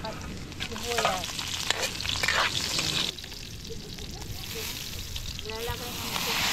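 Garlic and onion hitting hot cooking oil in a pan for eggplant adobo, sizzling and frying with stirring scrapes and clinks, the crackle fading slightly midway before building again.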